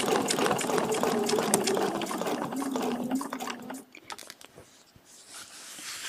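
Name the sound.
sewing machine stitching a quilt along a template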